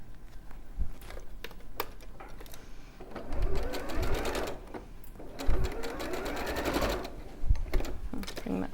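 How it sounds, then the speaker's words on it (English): A sewing machine stitches a quarter-inch seam across fabric pieces for a sewn animal head, a steady close mechanical whir that swells into louder bursts of fast stitching in the middle and near the end. "we're going to sew across here."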